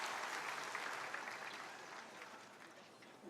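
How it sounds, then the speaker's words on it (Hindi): An audience at a government inauguration event in Bihar claps in welcome for Modi, a soft, distant, continuous patter of many hands that thins gradually. "जोरदार तालियों से हम सब स्वागत करें।"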